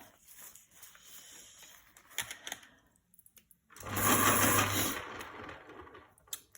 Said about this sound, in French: à chaque fois que vous entendez le taille-crayon, je suis bien désolée